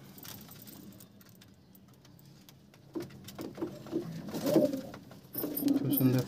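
Old native pigeons in a loft give soft, throaty coos in short bursts that grow busier in the second half, mixed with light rustling and handling noises and faint voices.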